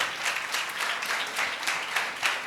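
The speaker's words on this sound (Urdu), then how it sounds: "خدا کے برے کے لیے زوردار تالی۔" A church congregation claps together in a sustained round of applause, a dense, even crackle of many hands held at steady loudness throughout.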